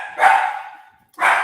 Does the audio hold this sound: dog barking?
yes